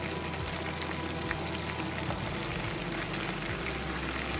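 Swedish meatballs fry in a pan with a continuous, even sizzle and crackle, fairly quiet and steady throughout, with no one speaking.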